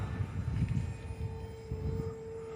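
Aeroscout S2 RC airplane flying outdoors after a rainstorm, its small electric motor giving a faint, steady drone at a distance with a slight rise in pitch, with no voices over it.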